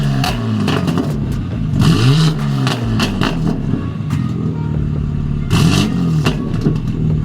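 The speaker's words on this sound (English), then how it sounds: "the pops are more aggressive" A loud BMW G80 M3 Competition engine with a 3.5-inch modular catback exhaust revs repeatedly, with sharp crackling pops and bangs from the exhaust between the revs.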